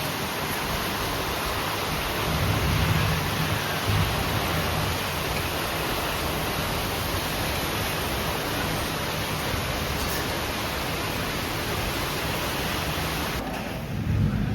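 Heavy rain pours during a windy storm in Talegaon, a dense steady rushing wash that stays loud and close from start to finish.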